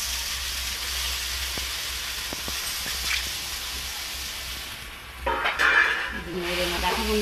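Mixed vegetables with taro and potato being stirred in a pan, a steady frying hiss with soft scraping taps, then a louder clatter and a brief voice toward the end.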